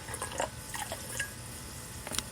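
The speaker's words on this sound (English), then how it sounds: "So let's go and pour us a little bit of this." A drink is poured into a glass, with faint splashes and light liquid trickles in short bursts over a quiet background.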